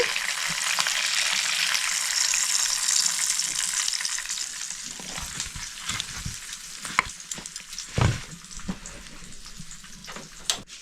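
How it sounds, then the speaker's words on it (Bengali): Steady crackling sizzle of tandoori chicken pieces frying in hot oil, loud and continuous, easing slightly with a few clinks and scrapes toward the end. "এটাও ওরকমই 1 মিনিট করে ভেজে উল্টে নেব।"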